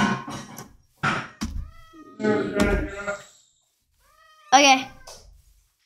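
Cats meowing in the Minecraft video game, several short distinct meows spaced over a few seconds, loud and close, with a person briefly talking between them.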